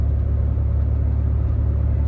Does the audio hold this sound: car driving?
yes